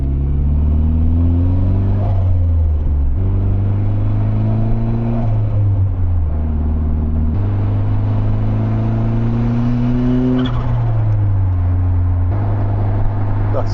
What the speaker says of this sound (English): Wait till we build the speed up a bit as we rejoin the motorway.